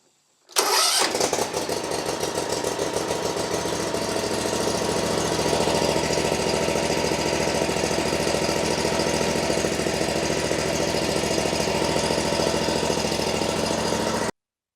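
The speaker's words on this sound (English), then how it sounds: "I'm going to turn the key and see if it'll crank up here" A small engine fires up after a brief crank when the key is turned with the choke pulled, then settles into a loud, steady, close-up run for over ten seconds before cutting off.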